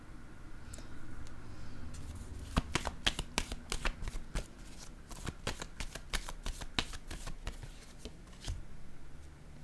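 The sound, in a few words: tarot cards being shuffled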